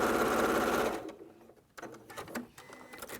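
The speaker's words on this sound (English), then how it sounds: "let's sew this down." A sewing machine runs a quarter-inch seam with a loud rapid whir for about a second, then stops, followed by quieter handling clicks and rustles.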